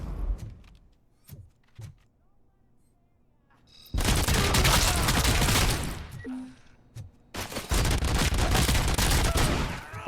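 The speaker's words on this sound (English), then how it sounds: "That's a grenade." A grenade blast and bursts of heavy gunfire in the RoboCop Rogue City video game, with scattered shots and sharp bangs at first, then two long, loud stretches of sustained firing and explosion noise.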